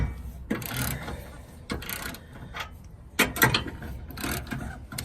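Ratchet tightening the bolt nuts of a rear trailer hitch receiver on a Dodge Ram: bursts of quick clicking ratchet strokes, close and fairly loud, separated by short pauses with no talk.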